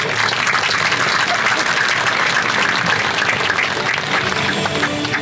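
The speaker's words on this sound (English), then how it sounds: "So give them a round of applause." An audience at a city's State of the City address gives a round of applause for librarians, a dense, loud, steady wall of clapping from many hands that holds evenly throughout.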